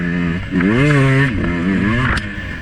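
Dirt bike engine revving high and screaming while ridden on a trail, pitch rising and falling through quick throttle blips and shifts, loud and close.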